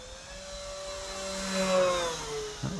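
Avios KingTwin 1700mm RC turboprop model airplane flying at full throttle at sunset, a steady whining drone whose pitch slides up and down as it passes, swelling louder midway and then easing off.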